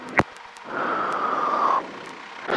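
Westland Wasp helicopter passing an airfield control tower, a steady broad rotor and engine roar swelling for about a second and then fading, with a faint whine in the middle.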